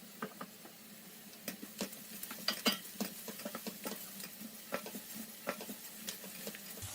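Onions sizzle quietly in hot olive oil with garlic, with soft irregular crackles and pops and occasional stirring scrapes, steady and close.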